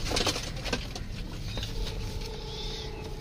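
Golden Haray pigeons coo softly with light fluttering and shuffling close by, over a steady background hum.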